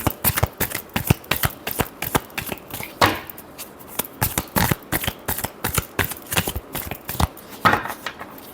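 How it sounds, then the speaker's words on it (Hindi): Tarot cards being shuffled in repeated quick riffles and taps, a steady rhythm of crisp, close slaps and flutters with no speech. "Last shuffle."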